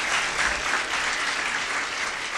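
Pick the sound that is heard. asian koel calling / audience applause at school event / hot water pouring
audience applause at school event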